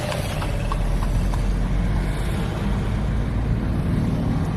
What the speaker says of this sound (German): Auch in der Pferdekutsche.